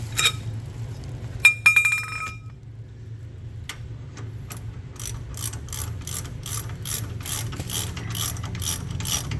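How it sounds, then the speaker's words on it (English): A ratchet wrench loosening a bolt during a King front shock install on an Ineos Grenadier clicks in quick rapid bursts, then settles into a steady run of evenly spaced clicks, close and distinct over low background hum. "If I can get her loose enough to just use the wrench."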